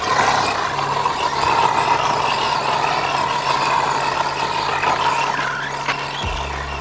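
A Bonzai Jubatus B416 RC car runs over loose gravel with a steady, loud electric motor whine and a continuous crunchy rolling noise throughout.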